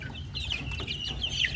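Young chicks peep and cluck softly near at hand in a brief burst, with several short high chirps over a low background rumble.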